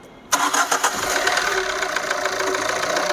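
A Tata Nexon with a worn, noisy engine cranks and catches abruptly, then settles into a loud, close, uneven running sound with a rough mechanical clatter.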